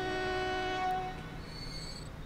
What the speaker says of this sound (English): here is our new train coming out